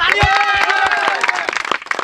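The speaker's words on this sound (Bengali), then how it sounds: "জোরে একটা তালি দেন" A crowd claps at a Bengali street magic show, with sharp hand claps scattered under loud overlapping voices and cheering for about two seconds.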